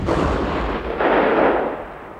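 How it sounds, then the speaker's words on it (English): An explosively formed penetrator round slams into an armored APC during a Bofors weapons demonstration, producing a loud, sustained booming blast that swells and lingers with rumbling overpressure and no voices. "the explosively formed penetrator can be seen striking the target"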